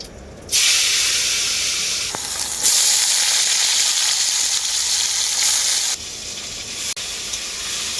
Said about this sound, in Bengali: আলুগুলোকে আমি খুব ভালো করে ভেজে নেব